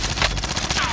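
Rapid automatic gunfire in Call of Duty: Warzone, in a Rebirth lobby match, rattles off as a dense burst of close, loud shots over about a second.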